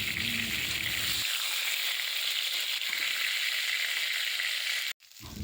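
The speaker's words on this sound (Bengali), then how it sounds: "পটলগুলোকে কিন্তু এপিট ওপিট ভালো করে লাল লাল করে আগে ভেজে নিতে হবে" Pointed gourd (potol) pieces fry in hot oil with a steady, loud sizzle and hiss throughout, a low bubbling under it at first, broken by a brief gap near the end.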